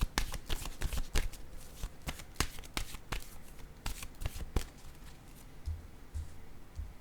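A deck of cards is shuffled for a tarot-style card reading, with quick rapid riffles and flutters in bursts, close and fairly crisp, then a softer rustle near the end.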